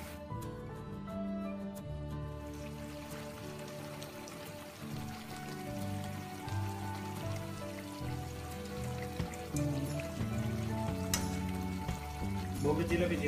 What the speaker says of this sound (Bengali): এভাবে দিয়ে আমরা মিডিয়াম আঁচে ভাজি করব।